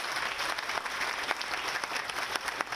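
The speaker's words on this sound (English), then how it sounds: "Let's give them a big round of applause." An outdoor Memorial Day ceremony crowd gives a big round of applause for Boy Scout troops, dense continuous clapping from many hands, steady and fairly loud throughout.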